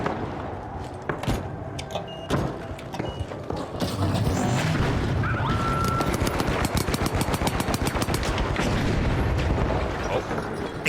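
Heavy video game combat: a grenade blast followed by bursts of rapid gunfire, loud and dense with rattling automatic fire in the second half, with a voice speaking briefly early on.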